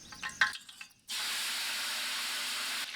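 Curry leaves drop into hot oil with mustard seeds and burst into a sudden, steady loud sizzle that keeps going, following a few soft clinks, with the cooking done in a village kitchen.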